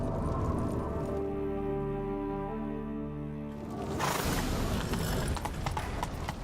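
Rapid hoofbeats of a horse in The Witcher 3 clatter in a steady galloping rhythm, loud and close, over a low humming drone, turning noisier and harsher toward the end.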